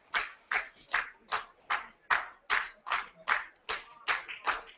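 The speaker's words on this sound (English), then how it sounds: "You can hear the clapping in the crowd." Crowd applause at a women's classic powerlifting world championship, ringing out after a successful third-attempt bench press for silver: about twelve rhythmic bursts of clapping, fairly close and steady, with no talk.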